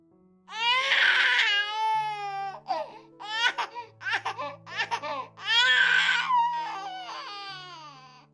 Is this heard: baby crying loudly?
yes